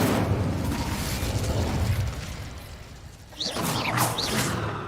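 An Incendio fire spell is cast in a video game: a rumbling roar gives way to a lull, then a bright whooshing burst of flame flares up and trails off, with no voices.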